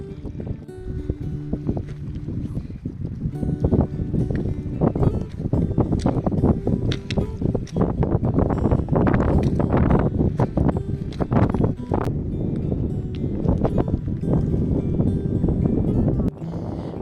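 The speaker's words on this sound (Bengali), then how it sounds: "সবসময় বাতাস থাকবে ধমকা বাতাস কোনো গরম নেই" Gusty wind beside the alpine lake Lünersee in Austria, buffeting the microphone in loud, continuous low rumbling gusts that rise and fall for the whole stretch.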